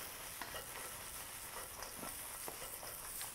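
Crispy salt and pepper corn with chopped spring onion sizzling and frying in a pan, steady hiss with soft scraping tosses at intervals, fairly quiet and without talk.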